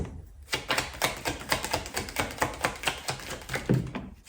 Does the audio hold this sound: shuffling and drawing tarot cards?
yes